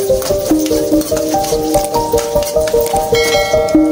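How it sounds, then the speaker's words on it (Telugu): Chillies, curry leaves and onions sizzle as a tempering fries in a pan, with steady crackling and regular stirring scrapes, while melodic music plays loudly over it. "ఈ విధంగా బాగా గోల్డ్ కలర్ వచ్చేదాకా తాలింపు వేపుకోవాలి."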